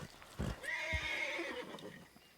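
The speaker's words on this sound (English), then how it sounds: "I'm sorry, horsey. Off you go to the stable." Horse in a video game whinnies loudly once, a long shrill neigh with soft hoof-like thumps before it, alone and close.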